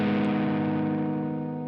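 A single distorted electric guitar minor chord rings out from a song, struck once and held with thick crunchy sustain that fades slowly, with no voices.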